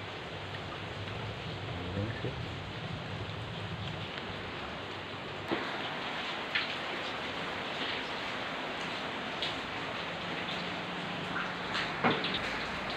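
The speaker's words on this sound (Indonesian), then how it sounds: "Hujannya sampai jam 6 ya" Rain falls in a steady, fairly quiet hiss, with a few sharper drips and taps standing out now and then; no distinct thunder stands out.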